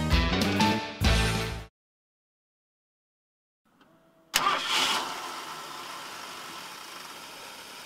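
A 1958 Mercury M100 truck: clattering bursts at first, a pause of silence, then a faint click and the engine catching with a loud close roar that settles into a steady, rumbling idle.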